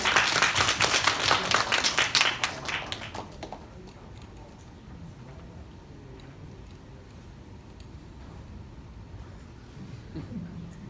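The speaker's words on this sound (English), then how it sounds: "Let's give a round of applause for them." Audience applause at an emergency medicine residents' forum, a burst of many hands clapping for about three seconds that then drops off to quiet room tone.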